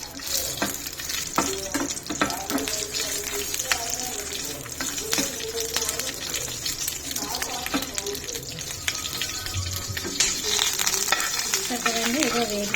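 Green chillies sizzle in hot oil with dried red chillies while being stirred, for cabbage pachadi. Steady close frying hiss with repeated scraping stir strokes throughout.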